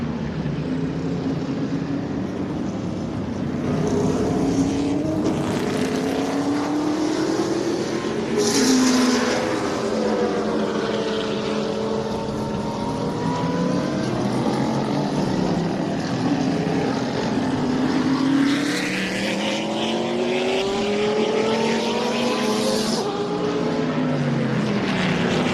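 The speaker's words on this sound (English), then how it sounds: "High-pitched whine that comes with the V12." A Group 44 Jaguar V12 race car on a track at a speed festival, its high-pitched engine whine rising and falling through gear changes, mixed with other passing race cars.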